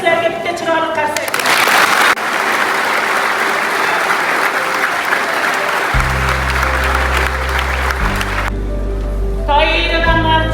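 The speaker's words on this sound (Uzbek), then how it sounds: "B+larga bitta chiroyli qarsak" A school audience claps in a sustained burst of dense, loud applause lasting several seconds, with a low electronic hum and a voice on a loudspeaker before and after.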